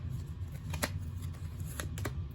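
Tarot deck being cut three times by hand, soft card riffles and shuffling flicks over a steady low background hum, with no talking.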